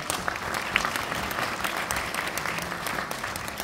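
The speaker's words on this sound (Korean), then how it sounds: "박수로 환영하겠습니다" A lecture audience claps to welcome a pastor speaking on military mission, a fairly quiet but steady round of applause with a few sharper individual claps.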